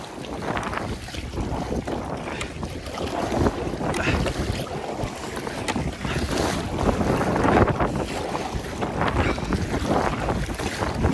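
Strong wind gusts across the River Dart around a kayak, a continuous rushing roar with microphone buffeting and faint water splashes, swelling and easing but never letting up.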